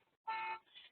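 A short synthetic car horn honk sounds once from an educational website when the mouse hovers over it, a single brief blare followed by a softer tail.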